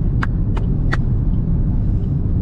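A Dzire 1.3 diesel automatic and an i20 1.2 petrol accelerate side by side in a drag race. A loud, steady roar of engine and wind runs throughout, with three sharp ticks early on.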